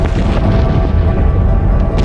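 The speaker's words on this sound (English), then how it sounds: "A series of booms could be heard hundreds of miles away." Deep, heavy booming from the 1883 Krakatoa volcano eruption rolls on continuously and loudly, a dense low-pitched roar with no pause.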